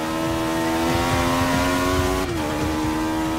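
A race car engine in Forza Motorsport 6 holds a loud, sustained high-pitched whine through a corner, dipping briefly as it shifts before pulling steadily again.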